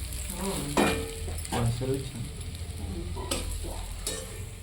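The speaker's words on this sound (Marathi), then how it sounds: "अशी झाली मस्त पैकी फ्राय शिमला मिरची" Sliced capsicum frying in a pan while being stirred, a continuous sizzle broken by scraping strokes of the spatula, close and fairly quiet, with no talking.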